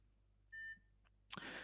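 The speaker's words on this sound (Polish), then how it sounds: "Robot piknął, potrzebuje połączenie" A Codey Rocky educational robot gives one short, clear electronic beep in a quiet room, followed by a brief rustle or click.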